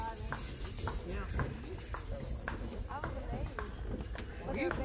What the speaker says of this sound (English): Amish kids are driving teams of horses.